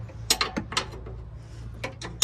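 A wrench works a 22mm nut off a big suspension bolt on a second-generation Toyota Sequoia. It makes a series of quick, fairly close metallic clicks and ratcheting taps in uneven bursts over a low background hum.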